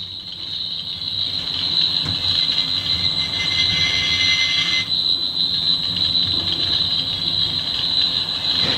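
A Doctor Who 14th Doctor sonic screwdriver gives a loud, steady, piercing high whine that holds throughout, with a rougher buzzing layer shifting partway through and a low hum underneath.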